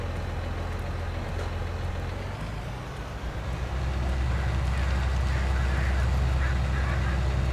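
Crows caw in a farming field in Farming Simulator 19, their calls faint and blended into a steady, loud low tractor engine drone that swells after a brief dip partway through.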